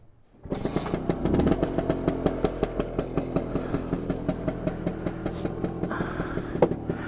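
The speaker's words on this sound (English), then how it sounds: "Has a very healthy sounding engine." A Vespa smallframe scooter engine sputters to life and settles into a steady, rapid putt-putt idle, loud and close, with a quick rev near the end.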